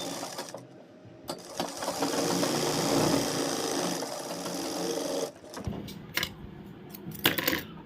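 A sewing machine stitches a pocket onto a palazzo in a steady whirring run for about five seconds, then stops and gives a few short clicking, rattling bursts as the fabric is adjusted, close up with no speech.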